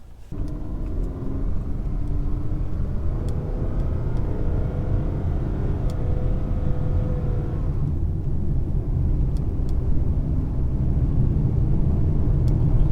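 Car with a 6T40 automatic transmission pulling out and accelerating, heard as a steady engine rumble that builds, with a shift in tone partway through; no one speaks.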